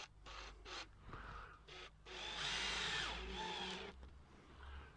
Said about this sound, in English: just pop a couple of screws in to the fixing.